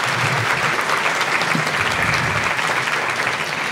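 Audience applause for two speakers at a Senior Corps session on older Americans in education, a steady, dense wash of clapping that fills the whole stretch at close range with no voices over it.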